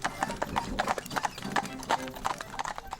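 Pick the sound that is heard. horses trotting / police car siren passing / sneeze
horses trotting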